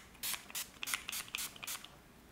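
Setting spray misted onto a face from a pump bottle, about six short, crisp hissing spritzes in quick succession, close and fairly quiet.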